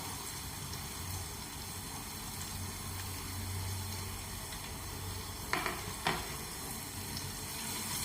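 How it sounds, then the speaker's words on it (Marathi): Finely chopped onions frying in a pan for chicken biryani give a steady, quiet sizzle throughout, with a couple of brief louder clatters or stirring scrapes partway through. "इथे मी 2 कांदे घेतलेत बारीक कापून, हे टाकूया आपण आता याच्यात."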